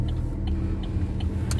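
A car creeping slowly through a car park while parking, a steady low engine rumble close by with faint small clicks and knocks, no talking.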